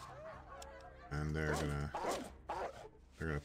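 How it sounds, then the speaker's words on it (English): Dogs barking in the video game Fallout 2, a few short bursts of barking at moderate volume over continuous game background sound. "Are these dogs gonna bark?"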